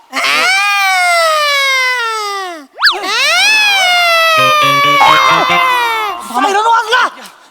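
A voice imitates a wailing siren on a comedy stage show, with long sustained falling tones, then sharp rising and falling sweeps, loud and close, breaking into choppier vocal bursts near the end.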